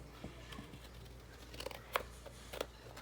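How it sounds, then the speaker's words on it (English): Scissors snipping paper for a junk journal in small pieces, a few quiet crisp cuts over a soft background hum. "we're going to cut it off little pieces at a time"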